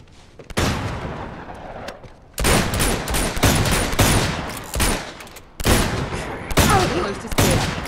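AK rifle fire in Uncharted 2 rattles out in loud, rapid automatic bursts, several volleys separated by brief pauses, with sharp cracks and echoing booms close by.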